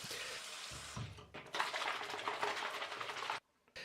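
Tap water runs into a container, being mixed 50-50 with Burgol shoe cleaner; a close, fairly loud splashing rush stops and starts, with a brief silence near the end.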